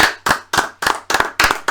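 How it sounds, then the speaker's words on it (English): Close, loud hand claps from a small group honouring a basketball player, about seven sharp separate claps in an uneven rhythm with brief gaps between them. "Can we just give him a round of applause first, then?"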